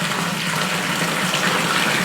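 Water pours steadily into a home fish tank, a continuous broadband rushing and splashing that stays loud and even for about two seconds with no voices.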